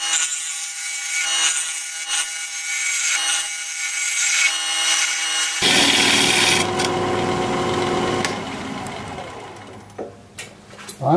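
A maple crotch bowl spins on a wood lathe while a gouge thins its sides, giving a steady scraping, hissing cut that shifts to a rougher, fuller grind midway and trails off near the end.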